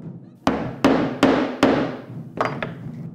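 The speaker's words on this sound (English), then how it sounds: "Then holes are pounded at each of the pinpoints." Holes being pounded into thick cow hide for a taiko drumhead: four sharp, evenly spaced strikes with ringing decay, followed by two quicker, lighter hits, close and without speech.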